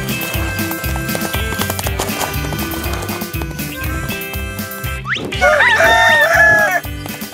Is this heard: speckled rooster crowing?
yes